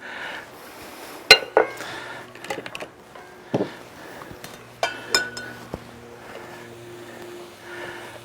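A utensil clinks and scrapes against a pan as artichoke hearts are stirred into paella, with a few sharp metallic knocks, softer taps and a quiet stretch between them.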